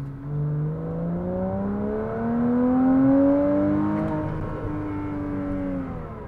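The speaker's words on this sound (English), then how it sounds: "put this car into manual, just so I can hold those revs." Porsche Cayman 987 S with a loud aftermarket exhaust, held in manual gear: the flat-six revs up in a smooth rising howl, peaks, then eases back, heard from inside the car with a clear, sustained engine note.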